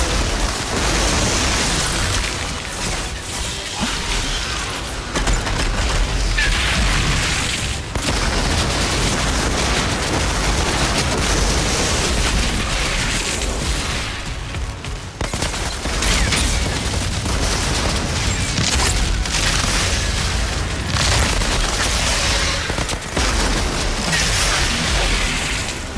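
Dense enemy gunfire and explosions fill a battle in the video game Outriders, a loud, continuous barrage of overlapping shots and booming blasts that never lets up, with a couple of brief dips.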